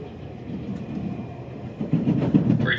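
The Spirit of Queensland passenger train runs on rails toward Bundaberg with a steady, rolling rumble that swells louder over the final second, heard from on board with no talking.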